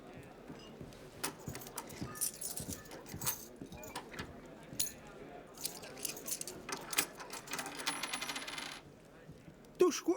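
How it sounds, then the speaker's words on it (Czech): Gold guinea coins are set down as a wager at a gambling table, chinking and jangling softly in small bursts, quiet and close, with faint murmuring voices around them. "Vida, mám ještě 10 ginejí. Vsázím všechno."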